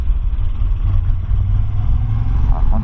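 Moto Guzzi V85 TT 2024 motorcycle engine running warm while riding, a steady low throbbing rumble with constant wind-like noise layered on top, continuous and close throughout.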